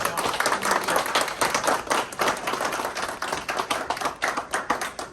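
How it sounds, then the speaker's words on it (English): An audience in a New York State Assembly hall claps for Jennifer Rajkumar at an International Mt. Everest Day declaration program, the applause dense, continuous and fairly close throughout. "So again, give a round of applause for Jennifer Rajkumar, who did a really good job."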